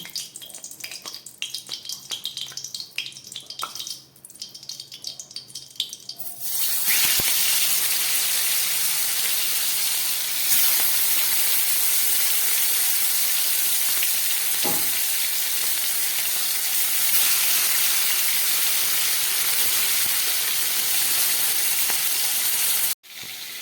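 Koi fish frying in hot oil in a pan, quiet rustling at first, then a loud, dense, steady sizzle that carries on close and continuous with a few brief crackles, stopping abruptly near the end.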